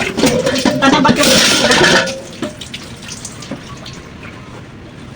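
Tap water splashing into a sink while a glass is rinsed in a home kitchen, a loud gushing spray for two seconds that then drops to a softer, steady trickle with small clinks.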